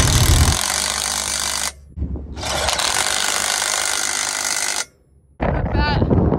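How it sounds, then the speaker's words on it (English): Strong Kansas wind buffeting a microphone during a custom harvest moving day, loud rumbling bursts separated by brief gaps, with a voice speaking briefly near the end. "it just shows you how windy it was"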